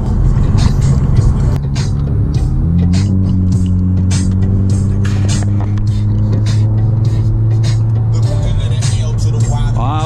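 An Audi A3 turbo drives by on a wet road, a loud engine hum whose pitch climbs steadily under continuous background noise, with rain-soaked tyre hiss.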